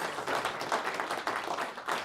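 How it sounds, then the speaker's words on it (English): A lecture hall audience gives a short round of applause for the sponsor of a winter public physics lecture, a steady, moderately loud patter of many hands with no voices. "So if we can have a little round of applause."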